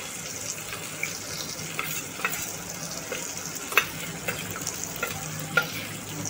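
Coriander, chili and cumin powders fry in a pan for dhaba-style dal tadka, giving a steady close sizzle punctuated by light spatula scrapes and taps, with no speech.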